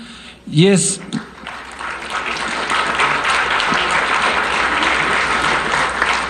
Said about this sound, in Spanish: Voy a pedirles un fuerte aplauso